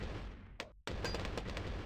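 Cannon towers firing in the Bloons TD5 tower-defense game, a rapid run of sharp booming blasts broken by a brief silent gap, then resuming in dense bursts.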